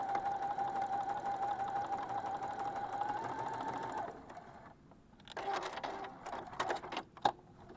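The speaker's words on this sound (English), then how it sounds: "you can stitch right along that diagonal" Sewing machine stitching binding along a diagonal seam, a steady close whirring hum for about four seconds, then stopping and giving way to a few short bursts and clicks as the fabric is handled.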